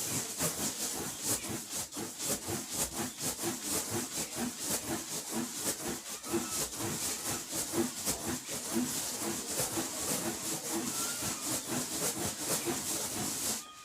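Rubber balloon rubbed against hair in a static electricity demonstration, giving a steady, close scratchy rubbing and squeaking that continues without pause, with no talk over it.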